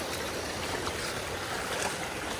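Rainwater after heavy rain rushes steadily through a field drain and pipe in a rural farm ditch, a constant, close, broadband gushing with no pauses and no talk.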